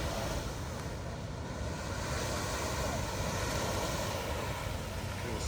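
The boiling hot water of Fountain Paint Pot in Yellowstone National Park gives off a continuous, even roar much like ocean surf, a broad steady rush with no break or pause.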